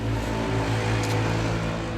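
A car rolls past on a nearby road, a steady low engine drone with a humming tone that holds fairly evenly throughout, with no voices.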